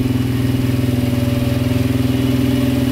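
A quad bike's small engine idles steadily with an even, rapid throbbing putter, close and loud, no talking; the engine has piston rings likely stuck and has been smoking.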